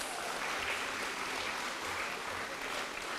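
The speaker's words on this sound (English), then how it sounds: "he deserves a huge hand clap from all of us" Sustained applause from the audience at a senior school graduation ceremony, a dense steady patter of many hands clapping at moderate distance, continuous throughout.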